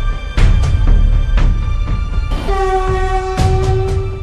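A DEMU diesel multiple-unit train, part of a troubled imported fleet, rumbles loudly along the track while its horn sounds in several strong blasts, the last one long and sustained, with no voices.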